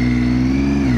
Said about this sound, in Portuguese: Dá uma acelerada aqui e a moto fica enganchando